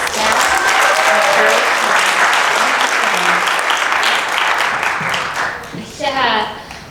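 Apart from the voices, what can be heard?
applause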